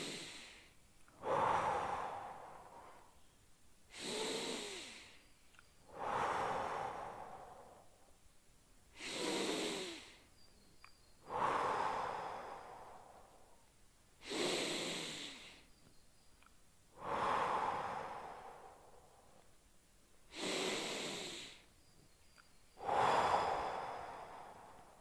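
Slow, deep breaths during a stretching exercise, about nine even cycles of inhale and exhale repeating every few seconds, close and clear with no talking.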